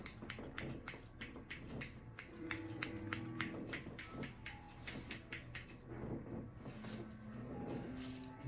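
Scissors snipping in a quick, regular run of crisp metallic cuts, close by, slowing and thinning toward the end over a low background hum.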